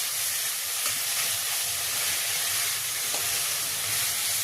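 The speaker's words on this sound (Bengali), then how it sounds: "লঙ্কা কুচি দিয়ে এটাকে নাড়বো আদার গন্ধটা যতক্ষণ না যাচ্ছে" Chopped green chilli and ginger paste fry in a pan for a Bengali-style dal tarka, giving a loud, steady sizzle with soft stirring scrapes underneath and no voices.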